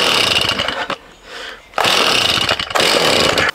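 A petrol hedge trimmer's two-stroke engine starts and runs loud and close in rough, buzzing bursts. It drops to a low idle for under a second, then roars back twice with no talk.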